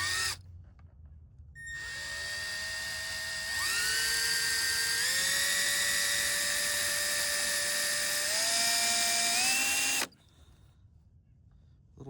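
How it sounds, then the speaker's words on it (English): A power drill spins up with a high whine and bores a hole into a car's TRD-style side skirt, its pitch stepping up in stages, running loud and steady for about eight seconds before cutting off. "I'm gonna go ahead and drill right here on my hole."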